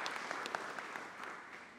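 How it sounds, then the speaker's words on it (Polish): A conference audience claps for a short spell, a dense, even patter of many hands held at a steady level, with no voices over it. "Bardzo proszę o brawa dla Moniki."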